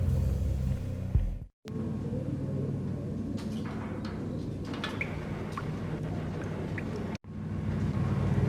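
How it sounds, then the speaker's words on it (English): An old service elevator in the Max Payne video game rumbles steadily downward, a continuous low mechanical drone with faint clanks, broken by two brief silent cuts. "The old service elevator rumbled down to the bowels of Jack Lupino's hotel."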